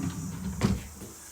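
A homemade wooden kitchen drawer built for a shipping container home slides once, a short muffled rumble and knock in the middle of a quiet moment.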